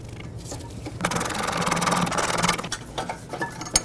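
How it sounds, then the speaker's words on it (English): A long ratchet cranks on tight rear brake caliper bracket bolts of a 2015-2020 GMC Yukon, giving a dense burst of rapid clicking that lasts over a second, followed by a few scattered metallic clicks and knocks close by. "Break them free with either a breaker bar or a long ratchet."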